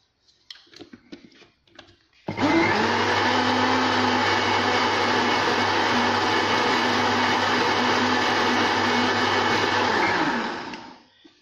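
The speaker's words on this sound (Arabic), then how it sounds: "غادي نخلط" An electric mixer whips crêpe batter made with flour, starting abruptly and running loud and steady for about eight seconds before winding down. It is preceded by a few light kitchen clatters.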